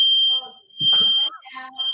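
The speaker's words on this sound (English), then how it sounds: "My fire alarm's going off." A steady, high electronic alarm tone like a household smoke detector's rings almost unbroken throughout, briefly dipping as voices talk over it and a low thump lands mid-way.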